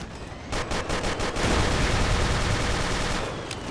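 Rapid bursts of gunfire ring out in the blocky first-person shooter Ace of Spades, several sharp shots followed by a sustained volley, loud and close with no talk.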